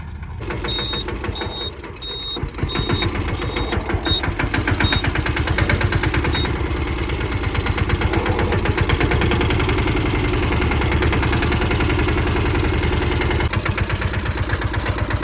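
Tractor-driven thresher running on a farm, a loud continuous rhythmic engine drone with a throbbing mechanical pulse, plus a brief series of high beeps near the start.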